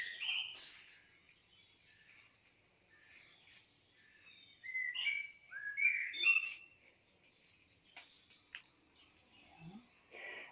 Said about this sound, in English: Birds are still singing outside.